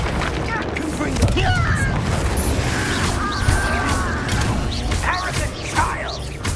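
Repeated Confringo blasting spells go off in Hogwarts Legacy, with muffled bursts and impacts amid a busy game soundscape, under character voices and battle chatter.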